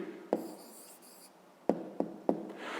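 A pen writing on paper makes a few brief scratchy strokes separated by short pauses, close and quiet, with no talk.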